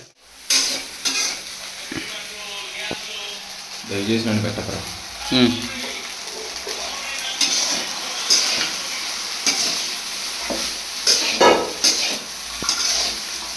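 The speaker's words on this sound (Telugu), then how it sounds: "ఇంకా అప్పుడే మ్యాగ్నేట్ చేసిన చికెన్ అయితే ఇప్పుడు వేసేసినాడు హర్షిత్." Marinated chicken is added to a cooked tomato masala and fries in a pan, giving a steady sizzle with scraping stirs and spoon clatter close up, while voices talk faintly in the background.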